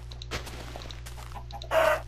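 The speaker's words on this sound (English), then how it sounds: "there's so many chickens." Chickens in the Minecraft video game give several short clucks, followed by a louder squawk near the end, against quiet background ambience.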